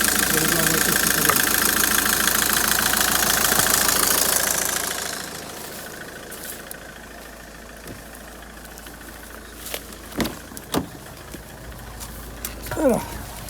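Citroën C5 engine idling, a steady low hum with a brighter loud section that drops away after a few seconds, followed by quieter rumble with scattered clicks and knocks.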